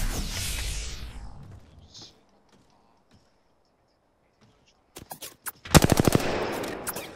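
Automatic gunfire from a weapon in the video game Apex Legends, a loud sustained burst of rapid shots near the end after a quieter stretch with scattered clicks and mechanical sounds.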